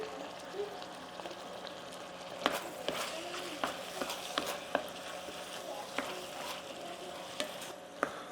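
Seasoned ground beef fries in a pan, a soft steady sizzle broken by occasional light clicks and scrapes of stirring, quiet and close with no talking.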